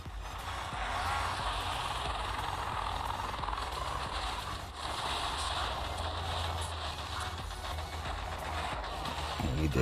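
Helicopters in the mobile strategy game Boom Beach, a steady whirring engine and rotor drone holding at one level throughout, with a brief dip midway and a loud stretch at the end.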